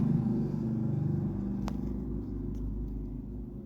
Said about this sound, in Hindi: ये हमारी चल पड़ी है गाड़ी